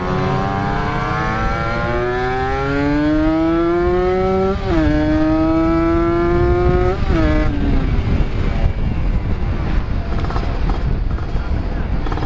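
Close and loud, a Honda Beat motorcycle engine is revved repeatedly: the whine climbs, drops sharply, and climbs again twice before settling into a rough, steady rumble.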